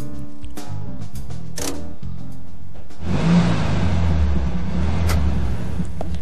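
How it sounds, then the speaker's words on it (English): A car engine in the video game Deadly Premonition starts up and revs, a loud, low rumbling roar that takes over halfway through after a few faint clicks and knocks. "Rev the engine before he gets out."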